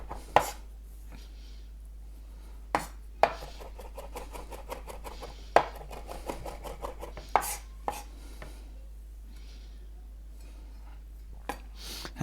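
A knife minces food on a cutting board for chicken noodle soup, giving rapid runs of sharp, close chopping taps separated by a few louder knocks and short pauses.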